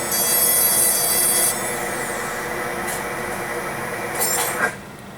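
Dental burr grinding grooves into a Vita VM13 ceramic tooth, heard as a loud, steady, close high-pitched rubbing whine that eases off midway, then a brief scrape before stopping.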